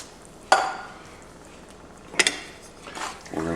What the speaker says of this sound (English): We're going to give this a stir, get it fully incorporated.